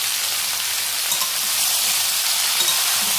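A vegetarian dish fries in a pan with a steady, close sizzle and faint stirring scrapes throughout, no talking.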